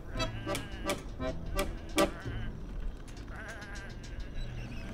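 Sheep bleat repeatedly in the video game Whateverland, several close, loud cries in quick succession over a steady game background hum, with more distant bleats trailing off.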